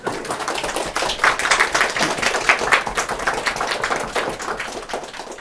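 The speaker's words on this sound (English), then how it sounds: "go on, give me a round of applause." An audience at a talk on utopia and urbanism claps in a steady, dense round of applause that holds at a fairly even level for several seconds, with no voices over it.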